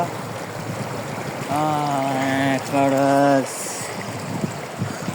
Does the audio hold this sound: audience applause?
no